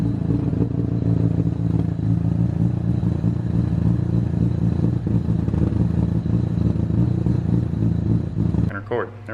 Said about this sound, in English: First startup. It's moderately successful. It idles.